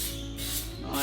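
An aerosol can sprays a light clear coat onto a car bumper and diffuser in a steady, close, hissing burst that swells slightly toward the end of the short pass.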